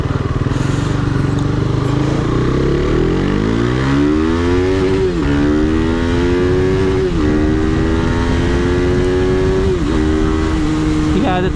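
A heavily modified KTM RC390 motorcycle pulls hard along a highway, its loud, close engine note climbing steadily in pitch through the gears, with brief dips at each shift and steady wind roar throughout.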